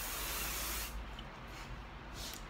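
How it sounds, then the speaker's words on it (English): Hairspray is sprayed onto an Odissi-style hair bun in one close, continuous aerosol hiss. It is loudest at first, then eases into fainter bursts. "When in doubt, use more hairspray."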